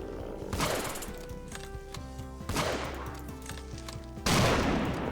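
Rifle shots in the hunting video game Squirrel Stapler, fired at a squirrel bear: three loud, sharp gunshots spaced about two seconds apart, each trailing off into a ringing decay.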